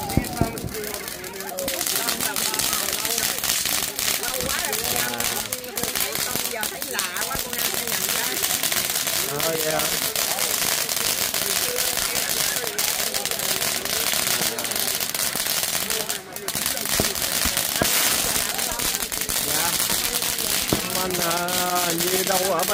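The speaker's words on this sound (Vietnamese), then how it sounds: "Hôm nay là ngày lễ đốt pháo." Firecrackers and fireworks burst repeatedly in a dense, crackling barrage for US Independence Day near Pasadena, loud and continuous, with people talking and children's voices mixed in throughout.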